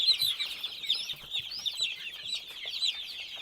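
A flock of chickens clucking and chirping continuously nearby, with overlapping high calls and scattered light scratching sounds.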